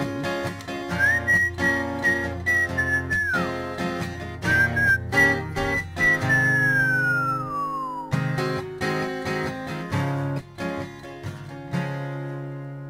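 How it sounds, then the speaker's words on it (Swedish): A man whistles a wavering melody between verses of a song at a talk on gratitude, the tune rising and falling over steady musical accompaniment, fairly close and clear for several seconds. "Förlåt att jag visslade."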